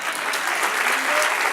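Church congregation applauding, a dense steady wash of many hands clapping at once, loud and sustained without a clear rhythm.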